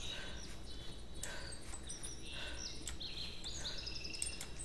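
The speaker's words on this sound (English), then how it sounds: "I hear a lot of birds." Birds chirp in a hunting video game's outdoor scene, a scatter of short, high tweets and calls repeating over a faint, steady background hiss.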